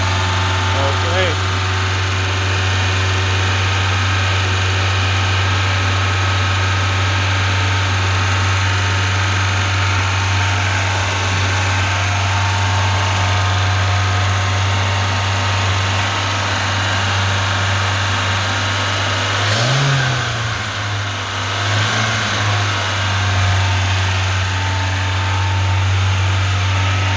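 An Iveco Daily van engine idling without the choke, a steady low rumble held throughout, close and loud, with slight unevenness near the end.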